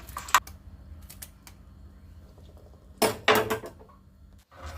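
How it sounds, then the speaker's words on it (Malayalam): A knife chops a small carrot on a board in a home kitchen, a few sharp taps early, then a quick cluster of crisp cuts, fairly close with quiet pauses between. "ഒരു ചെറിയ ക്യാരറ്റ് കൂടെ ഈ കാണുന്ന പോലെ മുറിച്ചിടാം."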